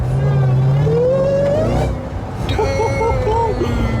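A rebuilt 2018 Jeep Trackhawk engine revs up and whines as it accelerates, with a rising mechanical tone and steady road noise throughout.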